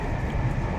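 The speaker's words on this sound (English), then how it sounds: "We're on the train" Steady low rumble from inside a moving train carriage travelling to Liverpool, a continuous dense drone with faint rattling texture, close and even in level, no voices.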